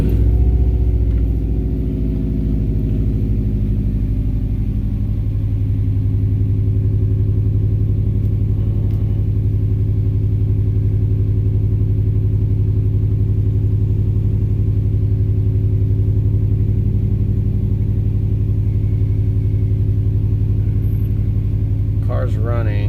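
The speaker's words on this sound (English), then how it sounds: "We're going to go ahead and start the car now." A 2002 Subaru WRX engine cranks and catches, then settles into a steady, loud low idle rumble that runs on unchanged at close range, with no voices.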